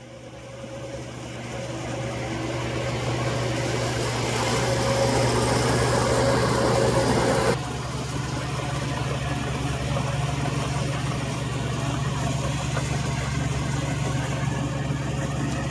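A Komatsu D2 dozer engine drones steadily while levelling uneven ground, a low continuous rumble that swells over the first seconds, then drops slightly and holds as the machine works nearby.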